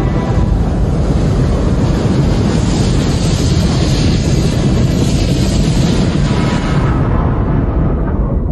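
Crashing ocean waves in rough seas, a loud continuous roar of surf and wind buffeting the microphone, filling the whole stretch before easing slightly at the end.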